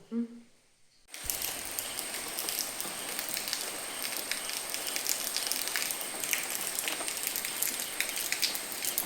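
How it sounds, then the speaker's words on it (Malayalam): Rain pours steadily outside, a dense hiss of drops on surfaces that starts abruptly after a brief moment of near silence and then holds at an even, fairly loud level. "മഴ നല്ല പ്രകൃതിയായിട്ട് പെയ്യുന്നുണ്ട്"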